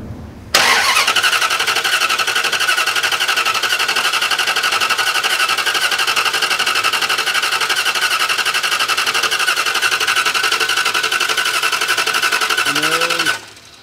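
A car engine cranks steadily on its starter for about thirteen seconds, loud and close, with a fast rhythmic churning. The starter solenoid is jumped with a screwdriver during an old-school points tune-up.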